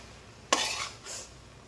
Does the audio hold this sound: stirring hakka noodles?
yes